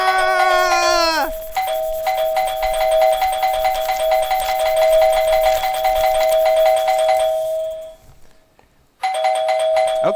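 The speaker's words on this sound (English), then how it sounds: "that was the doorbell" Electronic doorbell chimes ring loudly and repeatedly with sustained tonal notes, briefly dropping out near the end before resuming.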